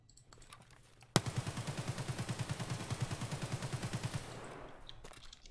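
A rifle fires on full auto in the shooter game Escape From Tarkov, a sharp onset followed by a rapid, even string of about thirty close, loud shots over three seconds, then a quieter tail with a faint click.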